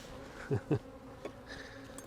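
A faint, steady honey bee drone hangs in the background around nucleus hives during an inspection, with a couple of louder thumps and soft knocks close by.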